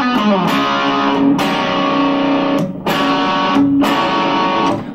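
A distorted electric guitar plays a chunky riff in open D, dense sustained chords broken by short clipped gaps, loud and close with no voice.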